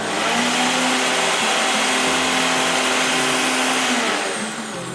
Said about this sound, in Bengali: এরপরে এইগুলোকে আমি একটু শুকনো গুঁড়ো করে নেব।